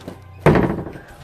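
Imitation of a door closing: one sharp, close thunk that cuts in suddenly, followed by a short fading resonance.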